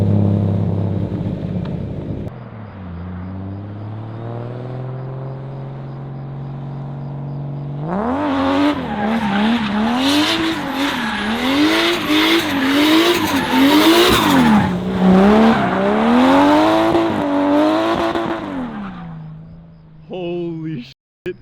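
A Nissan R32 GTR drives hard, its engine revving up and down in waves while the tires squeal loudly and continuously for several seconds. It opens with a steady idle and ends as the car eases off.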